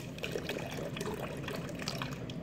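Tap water runs steadily from a faucet through a hose adapter at a lab sink, a continuous close rushing flow with no pauses or voices.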